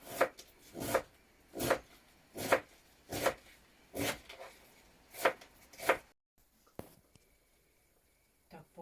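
A knife chops vegetables for borscht on a cutting board, with about nine crisp, evenly spaced cuts close by, followed by a few softer clicks and quiet handling.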